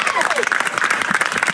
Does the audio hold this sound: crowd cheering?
yes